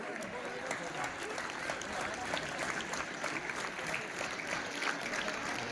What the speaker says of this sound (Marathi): पुण्याच्या टाळ्या वाजत राहिल्या पाहिजे.